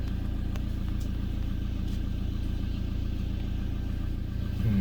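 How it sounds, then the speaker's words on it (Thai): A garbage truck engine idles close by in a steady mid-pitched rumble that stays even and unbroken throughout. "อ๋อรถขยะ"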